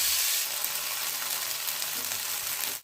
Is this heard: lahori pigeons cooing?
no